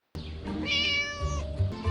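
A cat meows once, a clear, drawn-out, rising then falling cry heard close and alone in a quiet room.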